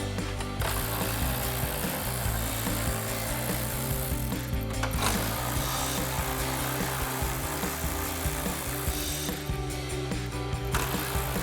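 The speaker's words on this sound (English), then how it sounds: "we're gonna grab our ratchet and 10mm socket and take them out" Ratchet with a 10mm socket backing out grill bolts on a 2016-2018 Chevrolet Silverado 1500, rapid close clicking and metallic ratcheting in repeated bursts with short pauses between them.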